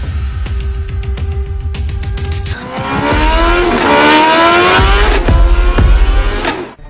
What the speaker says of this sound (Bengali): আরে এত জোরে বাইক চালাই আর অল্পের জন্য আমার গায়ে লাগে যেত